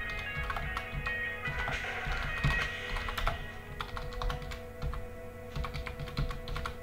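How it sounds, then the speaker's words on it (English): Fingers type a command into a Linux terminal on a computer keyboard, a steady patter of close, crisp keystrokes over a faint background hum with a few pauses. "type this command"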